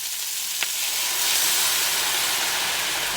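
Cabbage steaming with turmeric and about a cup of water in a pan, a loud continuous hiss and sizzle close by with one small click near the start, no voices.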